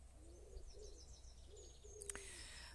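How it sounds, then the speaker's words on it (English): Birds sing in a garden, faint and somewhat distant: soft repeated low cooing notes like a pigeon or dove, with thin higher chirps and a brief sharp call near the end, over quiet background hum. "the birdsong."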